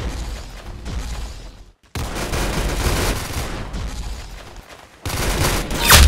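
Gunfire in the Arsenal video game, with bursts of rapid shots in three loud stretches separated by brief pauses, the last burst ending in a sharp close impact.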